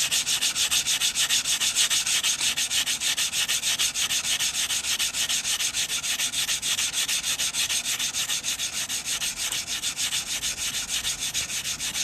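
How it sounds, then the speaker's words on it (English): Sanding the cut edge of a 90% silver coin ring, a continuous close, harsh abrasive rasp with a fast steady pulsing rhythm and no pauses. "And again, we're just cleaning up that cut edge. I'm sorry about this noise."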